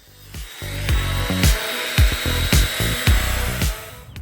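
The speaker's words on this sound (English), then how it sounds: "The router creates a lot of friction, so I try not to linger in any one area for too long." A high, whining power router grinds steadily into PVC, its pitch dipping and rising in repeated short passes, loud and close.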